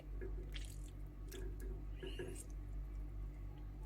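Water drips from cooked eggplants squeezed by hand for eggplant jam: a few faint, scattered drips and soft splashes over a quiet, steady background hum.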